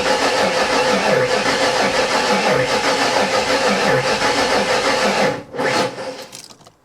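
A Ford Foxbody with a 347 V8 cranks steadily for about five seconds, then catches and fires briefly before the sound drops away, loud and close throughout.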